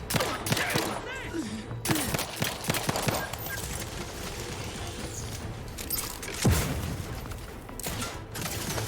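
Rapid bursts of gunfire during a firefight in the video game The Outer Worlds 2, dense and continuous over a constant rumble of combat.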